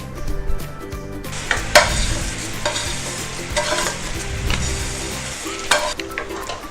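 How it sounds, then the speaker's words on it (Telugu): Vermicelli cooking in water over a medium flame is stirred continuously, with steady bubbling sizzle broken by repeated scraping strokes against the pan, close and fairly loud, with no voices. "దీనిని మీడియం ఫ్లేమ్ మీద 10 నిమిషాల పాటు ఈ విధంగా కలుపుతూ ఉడికించుకోవాలండి"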